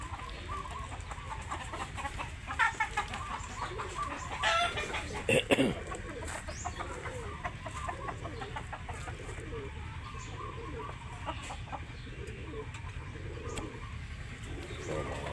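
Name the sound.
pet ducks on a farm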